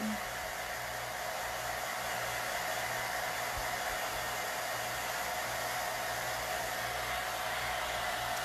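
A hair dryer on a no-heat setting blows steadily over a chalk transfer on pheasant cloth, a constant loud whooshing hum with no breaks.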